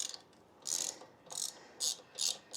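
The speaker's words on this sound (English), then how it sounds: "All right, ratchet time." A hand ratchet loosens a shock bolt on a 2020 Harley-Davidson Softail, giving four or five bursts of rapid pawl clicking, close and distinct, separated by short quiet pauses.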